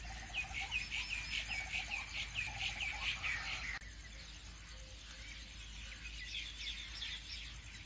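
Tailorbird chicks in a cartoon chirp in quick bright repeated bursts, loud and close for the first few seconds, then fading to a softer scattered twitter over a low steady background.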